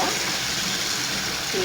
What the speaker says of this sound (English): I'm going to fill my basin with water